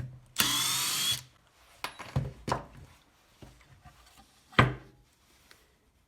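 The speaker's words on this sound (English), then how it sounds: "the nut you just saw me drill a hole through" A power drill bores a hole through a metal nut during a homemade scissor vise build: one loud, close whirring burst just under a second long, followed by scattered clicks and clatter of handling.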